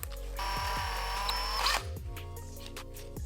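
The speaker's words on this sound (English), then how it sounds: "we're gonna drill into this thing with a 5mm drill bit." A power drill with a 5mm bit whines steadily at high pitch for over a second drilling into aluminum on a CR250 motorcycle, then spins down, leaving a low mechanical hum.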